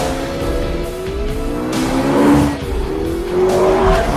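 A McLaren P1 driven in the racing game Forza Motorsport 5, its engine revving up through gears with rising whine, tires squealing as it corners, loud and continuous.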